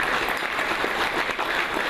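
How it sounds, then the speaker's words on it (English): Guests at an evening mental health fundraising dinner giving themselves a round of applause, a dense, steady wash of many hands clapping across a large room, sustained without pause. "Give yourselves a round of applause for looking so beautiful tonight"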